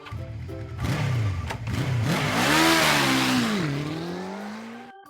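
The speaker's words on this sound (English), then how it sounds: "motorcycle" Motorcycle engine revving up through rising and falling pitches, loud and close, winding up strongly then settling into a steady higher drone.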